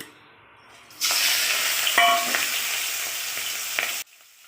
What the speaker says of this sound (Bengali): ওই তেলে একটু চিংড়ি মাছ ভেজে নেবো